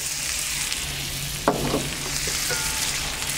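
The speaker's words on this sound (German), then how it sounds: "Und die dürfen wir jetzt hier schon mal schön anbraten." Onions sizzle steadily in butter on a cast-iron griddle plate, a constant bright crackle with one soft clink partway through.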